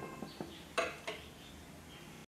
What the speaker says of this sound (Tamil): நல்ல ஒரு இறுக்கமாக ஒரு பிளேட்டை போட்டு மூடிடுங்க